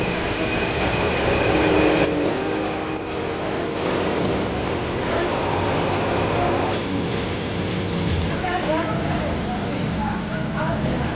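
A passenger train travelling toward Yerevan gives a steady loud rumble and rushing roar throughout, with a continuous mechanical drone and faint voices mixed underneath.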